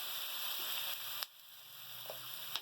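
Soy sauce and chilli sauce sizzle in a hot pan as masala is fried for chicken chilli, a steady broadband hiss with a couple of sharp knocks of a utensil against the pan, no talking.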